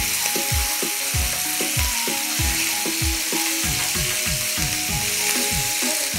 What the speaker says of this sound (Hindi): गोश्त को जो है वो यहाँ पे फ्राई कर लेंगे।